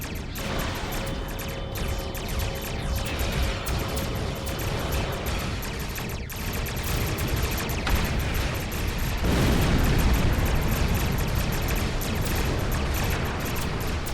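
Starship weapons fire and explosions against Klingon attack ships in Star Trek Online, a constant loud roar of blasts, booms and rumbling impacts that swells louder toward the end, with no talk.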